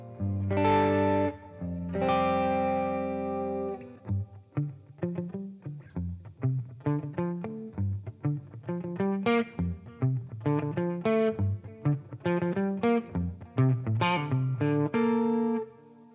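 Electric guitar through a Matchless Laurel Canyon amp capture, with reverb and tape echo delay: sustained ringing chords open, then a stream of crisp picked notes and chord stabs with a soft echo trailing behind.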